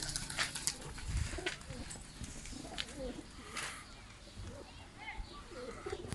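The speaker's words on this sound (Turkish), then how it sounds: "Bakın bu kuş da bizim değil." Pigeon cooing close by among other birds, with low coos and chirps over a busy outdoor background and some voice-like sounds mixed in.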